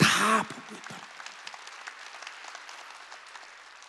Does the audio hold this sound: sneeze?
no